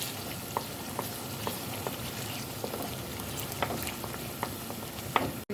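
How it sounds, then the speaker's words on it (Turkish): Tomato paste fries in a pan with a steady, dense sizzle throughout, while a spoon scrapes and stirs now and then with soft clicks over the hiss. "Salçalarımızı da biraz kavuruyoruz"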